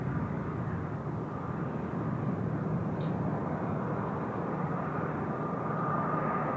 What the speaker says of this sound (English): there's Air Canada just arriving there on runway 34 left